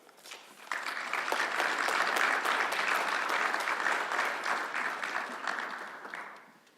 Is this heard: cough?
no